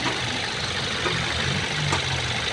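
Diesel engine of a Toyota Innova with a 1GD motor running after an overhaul, a close, steady idle with a dense mechanical rattle and no speech.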